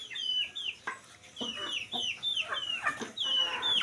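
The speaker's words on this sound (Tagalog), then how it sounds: "Mayroon ng manok." Chickens clucking close by on a farm, a rapid series of short, bright clucks and squawks repeating steadily and fairly faint, with no talking.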